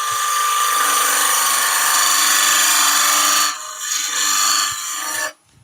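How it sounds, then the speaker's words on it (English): A square skew chisel cuts a wooden bowl spinning on a lathe, making a continuous rough scraping hiss that dips briefly near the end before the tool lifts away. "so I'm using the square skew."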